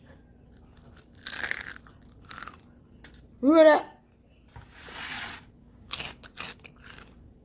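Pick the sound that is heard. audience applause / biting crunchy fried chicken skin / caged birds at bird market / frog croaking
biting crunchy fried chicken skin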